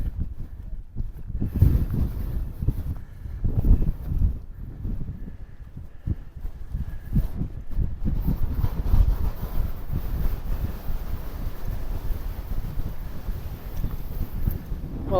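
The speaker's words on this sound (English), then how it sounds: "It's blowing an absolute hoolie up here" Strong gusty wind roars and buffets the microphone on an exposed Lake District fell summit, with low rumbling surges that rise and fall continuously and nothing else heard.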